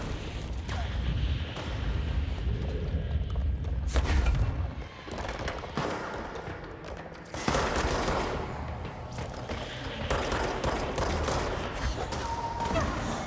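Sniper gunfire in the video game Control: loud, dense bursts of shots and heavy booming impacts that come in waves, with a sharp spike of fire midway and a steady barrage continuing under the action.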